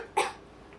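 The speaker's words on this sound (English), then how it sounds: "You have a terrible cough," One short, soft cough from a woman in a stage performance of Tartuffe, brief and fairly faint in a quiet room, followed by silence.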